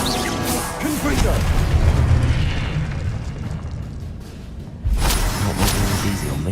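Hogwarts Legacy's Confringo blasting curse goes off in a deep booming explosion, followed by rumbling debris, a quieter pause, and then a second burst of noise.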